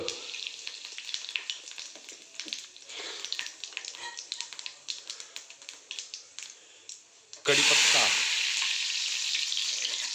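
Crackling tempering of cumin, asafoetida and curry leaves in hot oil, with sharp popping spits over a hiss that swells into a loud, dense sizzle near the end, and faint talk mixed in.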